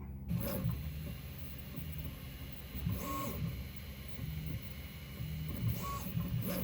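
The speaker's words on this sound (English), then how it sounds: "the piece as it's come off the 3D printer" A 3D printer printing a plastic part for a radio-controlled model torpedo boat, its stepper motors whirring in steady, repeating tonal runs with brief rising whines, close and continuous with no voices.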